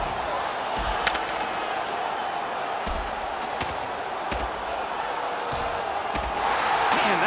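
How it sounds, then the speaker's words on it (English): Virtual arena crowd in NHL 16 roaring after a hockey fight, a steady dense wash of cheering and noise that swells slightly toward the end, with sharp thuds and slams scattered through it. "The crowd is ecstatic."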